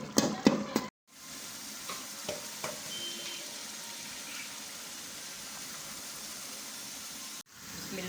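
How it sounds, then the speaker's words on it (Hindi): Masala spices fry in a pot for pigeon pulao with a quiet, even sizzle. A few light knocks and clinks sound at the start, then the frying hisses on steadily until a brief break near the end. "ये देखिए हमारा मसाला जी भून गया"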